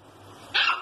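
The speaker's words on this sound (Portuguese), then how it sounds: "Cachorro comendo." A dog lets out one short, sharp bark, close and fairly loud, against a quiet indoor background with no talking.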